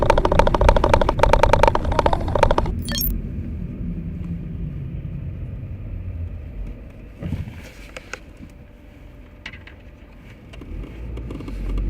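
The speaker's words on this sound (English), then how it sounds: "bumpy road ahead" Car driving along a European road, recorded from inside by a dashcam, with a loud rumbling start that eases into a steady lower cabin drone and a few knocks and thumps from bumps, no talk.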